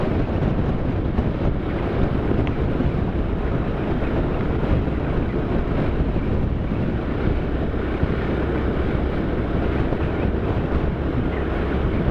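Strong wind buffets the microphone during a motorcycle ride in Infanta, Quezon, in a constant, loud rumbling roar that never lets up, with no clear voices.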